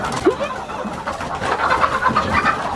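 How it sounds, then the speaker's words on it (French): Laying hens cluck and softly coo close by in an enclosed car boot, with scattered bird calls and a low background rumble. "on a les poules dans le coffre"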